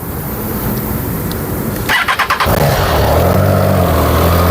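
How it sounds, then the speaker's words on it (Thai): A 2021 Triumph Trident 660 motorcycle on its stock exhaust runs near the mic, a steady engine drone broken midway by a short burst of sharp pulses, then settling into an even, fairly quiet idle with no talking. "มาฟังเสียงเครื่องยนต์ดีกว่า"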